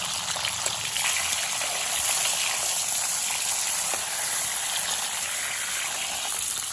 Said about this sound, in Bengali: দেখুন হাই ফ্লেমে পটলগুলো খুব সুন্দর করে ভেজে নিয়েছি লাল করে